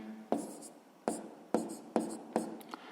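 Handwriting during a sixth-grade math lesson while working out a fraction ratio problem: five distinct pen strokes, each a sharp scratch tailing off into a soft scrape, spaced irregularly and close to the mic, with no talking.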